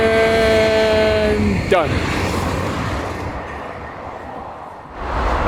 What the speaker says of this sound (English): the Shinkansen's gonna go by though